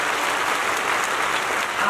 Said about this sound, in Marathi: एकदा त्यांच्यासाठी भरभरून टाळी वाजवा